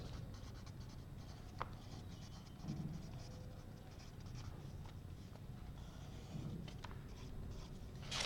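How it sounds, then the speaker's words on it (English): Pen or marker scratching steadily on a writing surface while an equation is written out, a continuous faint scrawl with a few sharper ticks. "let me write the torque equation"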